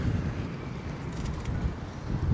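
Wind gusts across a microphone in a New York City park, giving a steady, rough low rumble that swells slightly toward the end. No voices break through.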